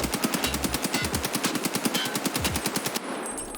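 Automatic rifle fire in the Escape From Tarkov video game rattles out in loud, rapid, evenly spaced bursts of shots, continuous for several seconds before a brief tail of ringing noise.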